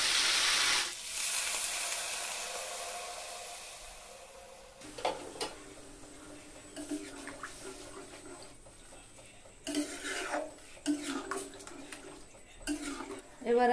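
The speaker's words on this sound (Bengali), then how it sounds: "এবার আমি এর ভিতর জল দিয়ে" Water is poured into frying masala with fried jackfruit and potatoes in the pan, raising a strong rushing hiss that fades, followed by scattered sizzles and utensil clatter with a voice at times.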